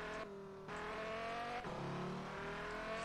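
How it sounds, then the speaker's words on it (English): A Dodge Viper engine in the racing game Auto Club Revolution, a loud, harmonically rich drone that briefly dips as the driver shifts, then climbs again and holds steady, with no talking. "engine sound is pretty much exactly like the one on the real-life Viper"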